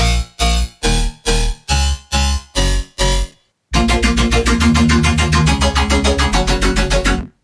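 Two heavy color bass riffs synthesized in FL Studio: first a run of eight evenly spaced, punchy stabs, then after a short gap a dense, continuous growling bass pattern, loud and upfront.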